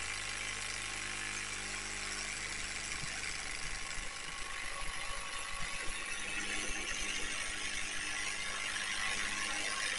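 A 3D printed pulse motor with a stainless steel rotor runs steadily on a low battery, giving off a constant close mechanical whir with a faint ticking pulse and no voices.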